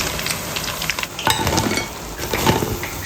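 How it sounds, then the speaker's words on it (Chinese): Batter-coated pork tenderloin strips, for sweet and sour pork, deep-frying in hot oil, with a loud continuous bubbling crackle and occasional clinks as the strips are dropped in one by one. "第一滴面糊能马上挑起来，开始炸，一条一条下"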